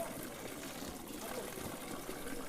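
Water pours steadily from the sacred Gomukh spout in front of Kedarnath temple, a continuous broadband rushing that stays even throughout the clip, close by with faint background voices.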